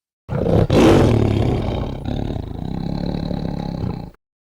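A single loud, deep tiger roar that swells, then holds in a long rumbling growl before cutting off abruptly.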